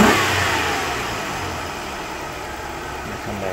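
A 1996 Buick Century with the 3.1L V6, which has ignition and injector faults, revs loudly as the throttle is snapped open, then settles back toward idle in one continuous close engine roar.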